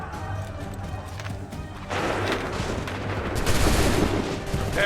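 Musket volley fire in an Assassin's Creed 3 cutscene: a low background gives way to a dense, continuous crackle of many shots, swelling louder toward the end with a noisy, battlefield wash.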